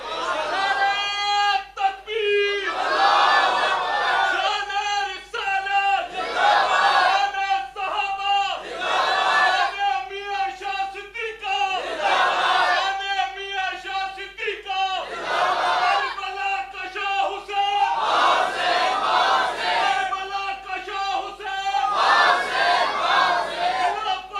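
Large crowd at a mosque gathering in Chakwal chanting religious slogans in loud call-and-response bursts, a voice leading and many voices answering together in repeated rhythmic waves.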